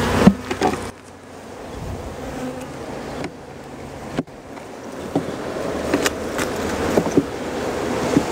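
Sparse honeybees buzz faintly around the top boxes of a hive after a swarm, a thin steady hum with occasional louder passes near by and outdoor wind.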